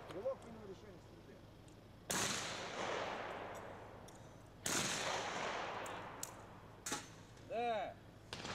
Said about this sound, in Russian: Стрелок принял решение стрельбе.